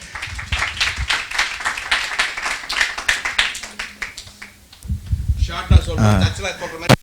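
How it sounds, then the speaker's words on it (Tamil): A church seminar congregation claps for a brother, with dense rapid hand claps running under a voice and then tapering off as talking continues. "brother pass Dominic கைதட்டுங்க"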